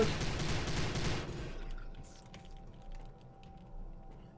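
Rapid gunfire from a weapon in Prey, a dense rolling rattle like a snare drum roll that is loud at first, then cuts off and leaves faint, scattered clicks and low background.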